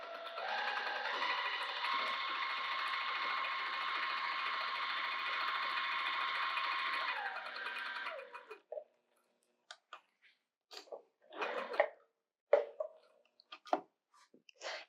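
A sewing machine quilting a bag hums and whirs in one steady run for about eight seconds, then stops. After that come scattered clicks, fabric rustles and handling noises.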